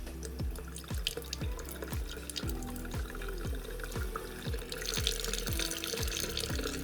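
Water runs and drips steadily into a dirty outdoor sink being washed in a shed, with a rhythmic series of splashing drips over a continuous flow, close by and without talk.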